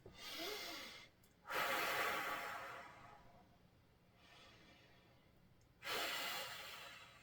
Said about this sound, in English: Take a couple of nice deep breaths here.